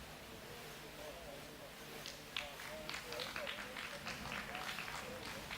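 A crowd at a junior track cycling race in Melbourne gives soft, distant applause and scattered clapping, which builds a little and stays under a commentator's voice.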